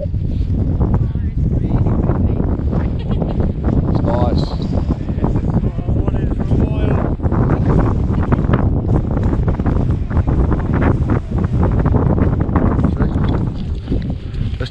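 Strong wind buffets the microphone steadily on an open hillside hike in the Peak District, a loud continuous rumbling roar that runs the whole time with people talking underneath.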